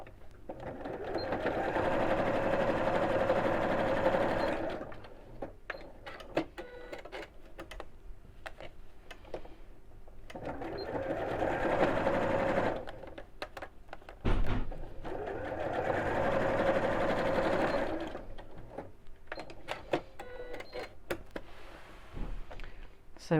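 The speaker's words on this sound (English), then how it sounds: "And then we're going to sew across these two lines" A sewing machine stitches across lines of fabric for a storage box, running in three long steady bursts with quieter pauses and small clicks between them, close and moderately loud.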